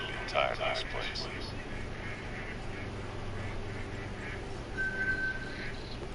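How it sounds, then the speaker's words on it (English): Ducks quack in The Hunter: Call of the Wild at Layton Lake, a few short calls early on over a steady lakeside ambience, with a voice talking faintly underneath. "I hear ducks."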